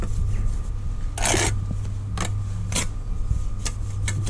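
A steel bricklaying trowel scrapes and spreads a mortar bed, giving several short gritty scraping strokes at irregular intervals over a steady low background hum.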